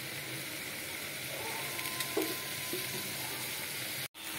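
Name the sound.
chicken mince frying with onions and potatoes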